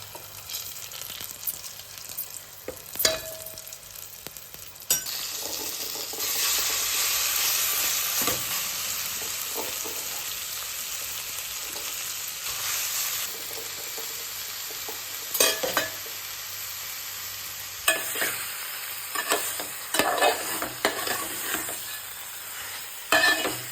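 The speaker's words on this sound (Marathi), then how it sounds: "फोडणीत लाल तिखट घातलं आणि ते पण आता परतून घ्यायचं" Red chili powder is sautéed in hot oil for a tempering, producing a continuous sizzle with repeated stirring scrapes and a few sharp clinks of the utensil against the pan, close by and with no voices.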